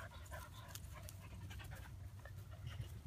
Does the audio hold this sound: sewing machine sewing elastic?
no